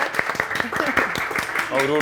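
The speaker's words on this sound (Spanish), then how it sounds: "así que un aplauso de bienvenida, por favor" Audience applauds in welcome on a Rapa Nui television show, scattered claps popping under a presenter's ongoing speech, fairly close and mid-level.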